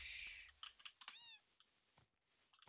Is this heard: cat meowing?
yes